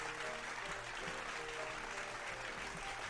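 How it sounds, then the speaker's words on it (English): Steady applause from a crowd, continuous clapping filling the whole stretch without pause. "Round of applause for the elves."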